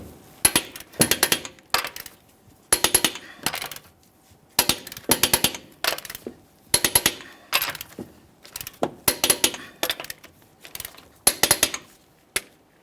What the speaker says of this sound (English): We'll be snugging and torquing in a crisscross manner.